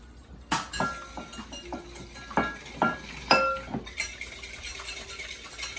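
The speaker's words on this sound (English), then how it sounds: "Give that a little whisk around." Metal whisk clinking repeatedly against a bowl while beating a single egg into a simple batter, a run of sharp close taps in uneven rhythm.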